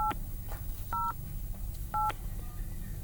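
Telephone keypad dialing tones while calling a mobile number, several short clear beeps spaced roughly a second apart over a faint steady hiss, fairly quiet with no speech.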